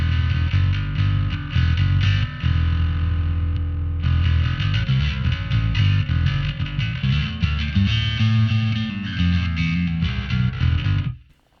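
A heavily distorted electric guitar plays chugging chords through a Valeton GP-200 effects processor with a custom patch, continuously loud and dense, then cuts off abruptly at the end.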